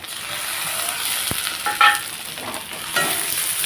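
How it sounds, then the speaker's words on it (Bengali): Okra sautés with black cumin paste in a pan, a close, steady sizzle with occasional scraping stirs and soft clinks from the utensil against the pan. "কালো জিরেটা দিয়ে হালকা একটু কষিয়ে নেব আমি"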